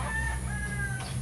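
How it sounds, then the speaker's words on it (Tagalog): Chickens cluck and a rooster gives a short crowing call over a steady outdoor hum of wind. "Maraming manok dito."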